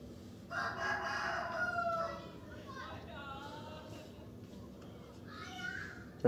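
An Aseel rooster, five years old and a three-time champion, gives a loud crow followed by a second crow near the end, with children's voices and background chatter in the yard.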